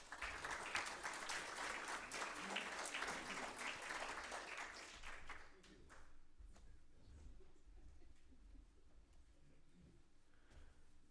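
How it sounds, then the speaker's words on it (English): A room full of people gives a warm round of applause for a guest speaker, dense clapping that cuts off abruptly partway through, leaving a faint, quiet room with a few scattered claps. "let's give Bill a warm round of applause"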